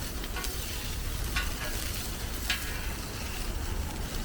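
Loud, steady sizzling of meat and food frying in hot oil at a Chinese street food stall, with occasional scraping stirs.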